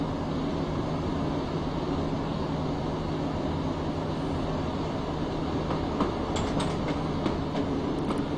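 A Class 117 diesel multiple unit runs on the North Somerset Railway in Train Simulator 2016, giving a steady, unbroken rumble of engine and wheels, with a few light clicks near the end.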